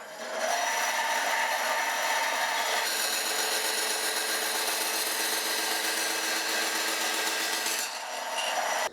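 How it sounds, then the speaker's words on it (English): A bandsaw cuts through a wooden block for a scratch-built guitar body, a steady loud rasping whine that holds for several seconds and then eases near the end. "I'll just go and cut this out on the bandsaw"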